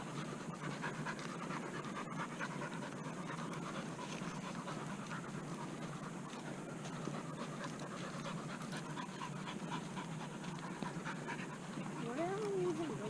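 Dogs pant rapidly and steadily up close for the whole stretch, a continuous breathy rhythm, with a brief whimper near the end, on a park trail walk in Broward County, Florida.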